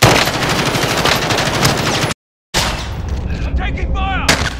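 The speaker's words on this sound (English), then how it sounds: "Taking fire!" Heavy gunfire in Call of Duty Warzone: loud, rapid automatic bursts and booming shots rattle close by, cut off by a brief silent gap, then resume with more shots and whining, zipping effects.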